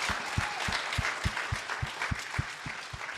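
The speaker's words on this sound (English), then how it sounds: "a round of applause for the Queen Mary and the Queen Mary people, the staff here" A room full of people clapping steadily for the staff aboard the Queen Mary, with a thumping beat underneath, a dense continuous applause at moderate loudness.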